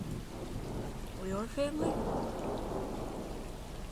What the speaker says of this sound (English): it sounds like the summer storms we've had around here